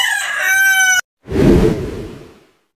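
A fighting rooster crows loudly and close, one strained call that cuts off abruptly, followed by a breathy rustling burst.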